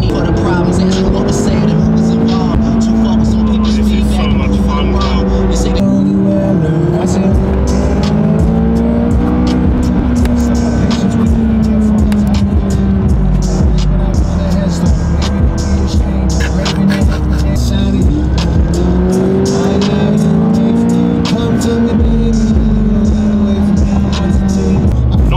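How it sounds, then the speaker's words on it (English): A McLaren 570S sports car engine and exhaust under way, a loud sustained engine drone rising and falling through gear changes and revs, heard from inside the car across the whole stretch. "That exhaust is too loud."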